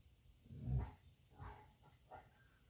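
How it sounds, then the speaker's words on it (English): A dog worries at a toy somewhere in the background of a quiet room, giving three faint, low growling grunts spaced about a second apart. "You can hear my dog in the background."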